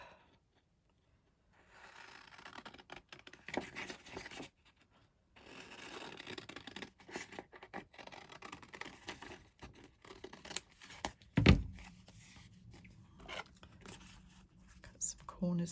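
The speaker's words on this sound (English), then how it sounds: "Get my big scissors out for this." Large scissors cutting paper for craft folios, with scattered snips and rustling between quiet gaps and one sharp louder cut near the end, heard close.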